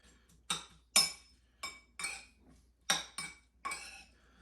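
Salted, peppered hummus toppings tossed together in a bowl, heard as seven or eight separate sharp clinks of utensil against dish at an uneven rhythm, close and fairly loud, with no talking.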